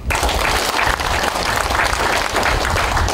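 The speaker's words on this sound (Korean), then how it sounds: "다시 한번 오늘 고맙다고 박수 한번 치고" At a veterans' association anniversary and year-end gathering, a crowd claps in a loud, dense, sustained burst of applause with no break.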